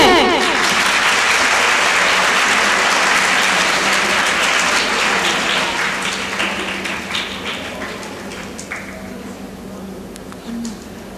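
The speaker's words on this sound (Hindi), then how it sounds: "हम सब भरपूर तालियों से उन्हें खुशामदीद कहते हैं" Sustained applause fills a hall as the chief guest arrives at a children's academy function in Pakistan, dense and steady clapping that gradually thins toward the end, with faint voices mixed underneath.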